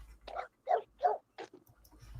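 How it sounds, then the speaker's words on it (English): Dogs barking in a few short, muffled bursts, four or five yaps at moderate distance in a quiet setting. "Uh-oh, dogs."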